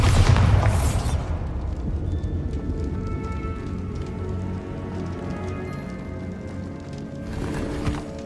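A loud booming spell blast opens a Hogwarts Legacy fight, fading into a sustained crackling rumble with a second burst near the end.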